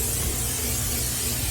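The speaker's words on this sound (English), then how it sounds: "We'll just start spraying this off a little bit because we wanna get this a nice patina on it." Canola oil sprays steadily from an aerosol can over the interior of a Pellet Pro vertical pellet smoker, a continuous close hiss without a break and with no talking.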